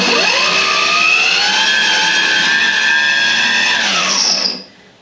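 Zero DS electric motorcycle whines at high pitch during a burnout, the motor's tone climbing and holding with tyre squeal, loud and close, then cutting off abruptly near the end.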